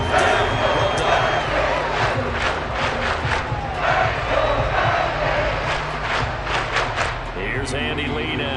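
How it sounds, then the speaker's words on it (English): Stadium crowd at an NFL football game between the Arizona Cardinals and Minnesota Vikings applauds and cheers the defense, a loud, sustained wall of clapping and roaring across the whole stretch with scattered shouts. "That's some applause for the defense there."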